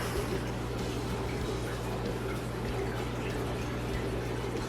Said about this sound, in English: Shake it up and pour it into